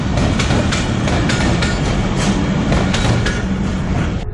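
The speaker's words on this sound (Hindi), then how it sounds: "अब रेलगाड़ी को अल्लाह हाफिज कहो।" A passenger train rolls steadily past at close range, loud and continuous, with rhythmic clickety-clack of wheels over rail joints and a rushing roar that fades slightly at the end.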